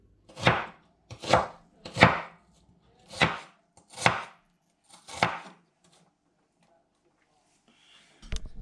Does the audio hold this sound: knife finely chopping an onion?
yes